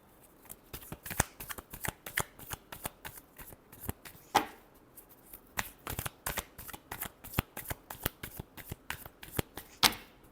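Tarot cards being shuffled by hand: a steady run of crisp riffling and snapping bursts, fairly close and continuing throughout, with no one talking.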